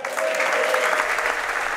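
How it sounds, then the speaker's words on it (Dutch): Applause from a crowd after a comedy performance at a local evening of humour, steady dense clapping with a few whistles and cheers mixed in, fairly close and continuous. "Onder groot applaus nam Tanja Truckie vanuit haar ton afscheid van het publiek"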